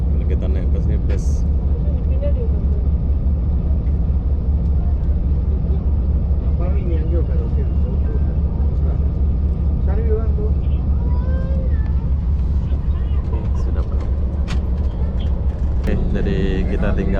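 Economy bus pulling out of Larkin terminal in Johor, Malaysia, with a heavy continuous engine rumble and drone heard from inside the cabin, steady and loud throughout, with a voice speaking over it.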